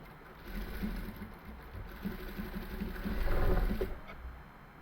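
A sewing machine stitches plain fabric for a salwar sleeve design, a steady mechanical whirring with a fast rhythmic needle chatter that swells and eases over a few seconds.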